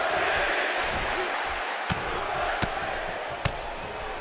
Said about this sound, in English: And Byron, I can barely hear myself think over this crowd here in Pontiac, Michigan.